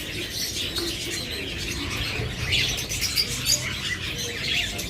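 A pair of green opaline pet birds chirp in short, bright bursts scattered over a steady background hiss, fairly close and moderately loud, with no voices present.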